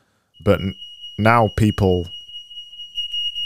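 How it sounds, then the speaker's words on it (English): A home smoke or fire alarm sounds a steady high-pitched electronic tone that runs through most of the clip, with someone talking over it. "Hold on, that's my fire alarm going off."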